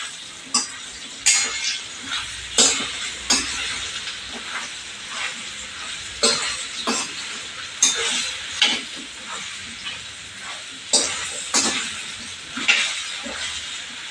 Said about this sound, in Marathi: तर अशी छान फोडणी लावून घेऊया आणि वर झाकण ठेवूया